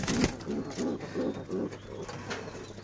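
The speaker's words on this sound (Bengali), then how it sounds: "এই কবুতর মারামারি করে কে?" Pigeons at a pigeon farm coo in a regular series of about six low, throaty pulses, close and fairly quiet, with a few faint flutters and scuffles.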